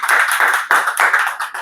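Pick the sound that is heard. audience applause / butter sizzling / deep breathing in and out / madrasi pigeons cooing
audience applause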